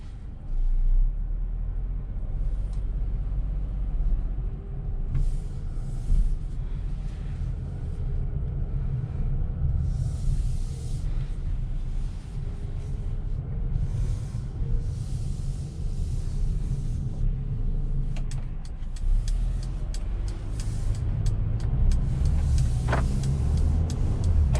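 A 2021 Mercedes-Benz GLA 250 with an 8-speed automatic is driven on an evening run, heard from inside the cabin as a steady low road and engine rumble with faint passing swishes throughout.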